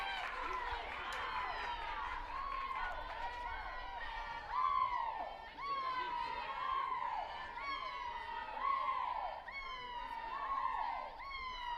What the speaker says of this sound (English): You can hear her dugout cheering her on